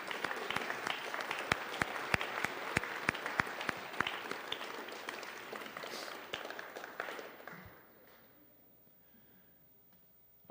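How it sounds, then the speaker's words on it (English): Players at a fall sports awards ceremony applaud, a sustained round of clapping with sharp individual claps standing out, fading out after about eight seconds into quiet room tone. "I think the players at least want to give you guys a round of applause for that one."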